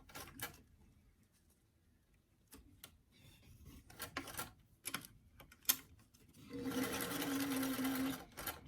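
A sewing machine stitches the first seam of a formal doll dress, with short bursts of ticking and fabric handling giving way to a steady, close whirring run toward the end.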